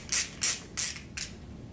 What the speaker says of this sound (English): You don't have to really ratchet it down, just nice and snug.